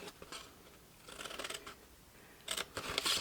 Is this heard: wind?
no